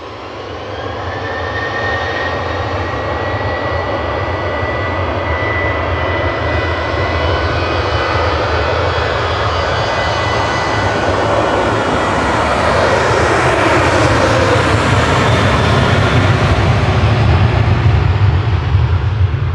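A Jet2 passenger jet departs Manchester Airport for Tenerife South, its engines a loud, continuous roar that swells steadily as the aircraft powers along and climbs past, with no speech over it.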